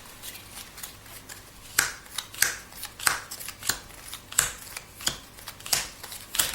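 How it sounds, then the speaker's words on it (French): Oracle cards are slid one by one through a deck in rapid, crisp flicks and papery snaps, close and fairly quiet, with no talk. "je commence à faire avancer les cartes"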